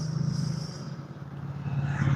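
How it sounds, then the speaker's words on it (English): Road traffic passes outside an open window, a continuous low rumble of car engines that swells and fades, with no talk. "when I open the window, it starts getting noisy with the cars"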